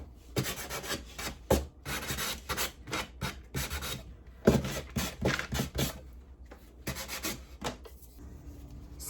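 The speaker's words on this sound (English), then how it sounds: "we're going to add a little wax," White wax is rubbed onto a piece of thrifted wooden furniture in quick back-and-forth strokes. The scrubbing sound is close and fairly soft, with short pauses between bursts and no talking.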